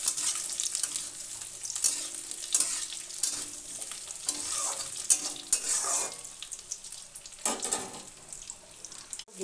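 Onion frying with boiled potato in a pan for a fish curry, a quiet ongoing sizzle with repeated spatula stirs and scrapes, some running-water sounds mixed in, no voices.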